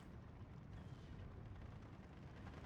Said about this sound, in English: Japaasaa's brought in his own 3-inch mortars, which are falling directly on the